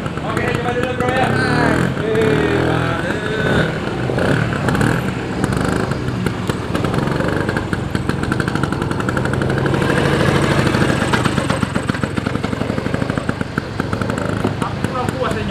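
A motorcycle engine runs loudly and steadily for the whole stretch, with revs rising and falling, while a crowd babbles and people talk over it.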